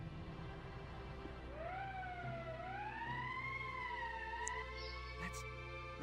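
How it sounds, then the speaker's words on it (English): A wailing emergency siren rises and sweeps up and down in pitch, sounding fairly distant and faint over a low steady hum, in an animated war drama setting. "That's the emergency siren."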